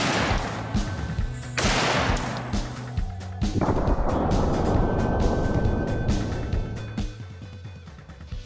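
Heavy gunfire booms in a series of loud, sharp blasts with long rumbling tails, some shots overlapping into a dense barrage before fading toward the end.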